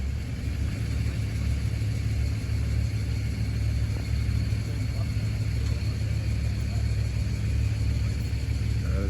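An off-road vehicle's engine rumbles steadily and loudly throughout, a continuous low drone while driving rather than sharp revs, with voices faintly mixed in.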